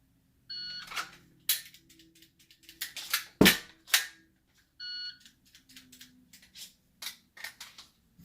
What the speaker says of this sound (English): I need to make sure that I'm actually getting that free first trigger pull.